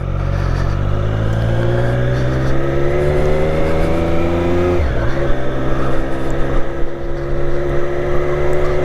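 Triumph 765 Street Triple RS motorcycle on a demo ride, its engine droning steadily and loud throughout, pitch climbing gradually through the gears with a brief dip near the middle before pulling on again; no talking.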